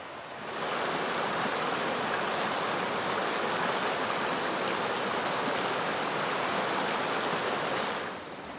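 River flowing near a gold-detecting hiking spot, a steady close rushing and splashing wash that swells in, holds evenly and eases off at the end.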